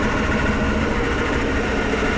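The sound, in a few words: loud noise from Ford 7.3 IDI E4OD torque converter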